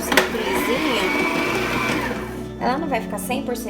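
Stand mixer fitted with a dough hook kneading heavy coxinha dough seasoned with onion and garlic, a loud close motor whir that shifts in pitch as it works, with a person talking over it.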